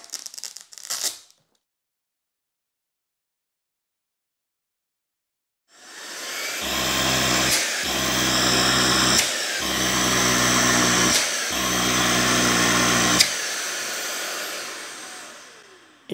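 Oraimo UltraCleaner S2 cordless stick vacuum switched on after a short click and silence, its strong high whine running loud and close, with the low end dropping out briefly several times as suction settings shift.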